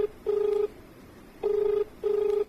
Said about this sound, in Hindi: डॉक्टर साहब एक फोन आ गल बा